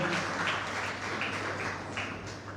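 At a library award ceremony an audience claps steadily throughout, a dense, even patter of many hands heard from within the hall at moderate loudness.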